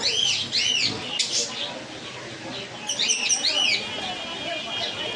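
Four-to-five-month-old lutino Fischer's lovebirds chirp in a bird shop, sharp high calls coming in bursts at the start and again near the end over a busy background of other birds.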